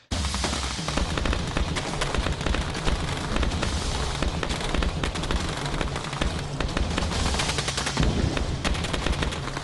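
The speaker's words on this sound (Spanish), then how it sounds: "Se oyó el primer disparo del intento de golpe de Estado." Rapid, sustained gunfire during a coup attempt in Guatemala crackles without pause, dense bursts of shots blending into a continuous loud barrage.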